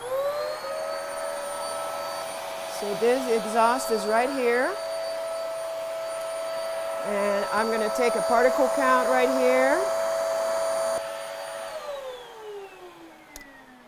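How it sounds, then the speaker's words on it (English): A vacuum cleaner running steadily at a home indoor-air-quality inspection, a continuous whine and airflow roar that holds through the clip and winds down near the end, with someone talking over it. "the way that we test a vacuum cleaner is we're going to turn it on"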